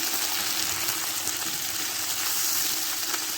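Pepper fries in a hot pan while being stirred, making a constant, bright sizzling hiss with faint bubbling. It is close and steady, with no voices.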